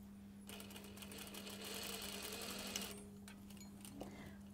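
A sewing machine stitches a cashmere jacket in one steady, fast run of needle clatter lasting a couple of seconds, quiet and close, then stops, leaving a low hum and a few soft handling clicks.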